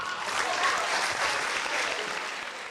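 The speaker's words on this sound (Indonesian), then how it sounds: "Oke, tepuk tangan dulu buat Bocil." An audience in Medan applauds a contestant: dense, even clapping that stays loud and continuous throughout, with no voices rising above it.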